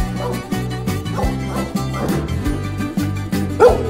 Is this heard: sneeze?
no